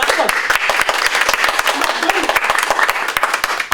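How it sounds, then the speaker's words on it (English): An audience at a university leadership race Q&A event applauds, giving loud, close, sustained clapping with many sharp individual claps. "Let's give another round of applause."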